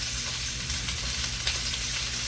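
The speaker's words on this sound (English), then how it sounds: "If you can hear the sizzling in the background" Italian sausages fry in a hot pan with a steady, close, unbroken sizzle that holds at an even level throughout, with no voices over it.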